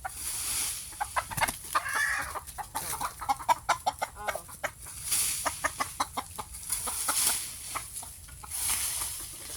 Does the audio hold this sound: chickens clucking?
yes